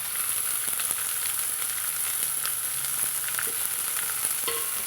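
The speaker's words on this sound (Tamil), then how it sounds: "நம்ம நல்லா வதக்கலாங்க" Coriander seeds, curry leaves and pirandai (adamant creeper) sauté in a hot pan with a steady close sizzle and frying crackle, broken by the scrape and clatter of stirring, with no talk.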